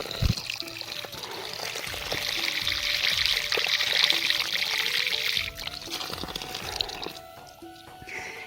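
Water pours steadily from a tap set among fields in an apple orchard in Shimla, Himachal Pradesh. The splashing is close and continuous, with a brief dip in the flow partway through and no talk over it.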